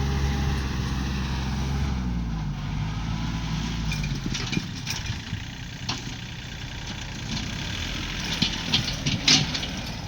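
A three-cylinder tractor engine idles steadily nearby with a low, rumbling drone and occasional mechanical clicks and knocks.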